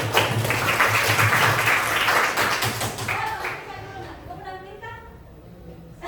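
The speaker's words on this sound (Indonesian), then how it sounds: "Tepuk tangan untuk kita semuanya." Audience applause breaks out at an artificial intelligence class, a dense burst of clapping that fades over a few seconds while a voice carries on talking beneath and after it.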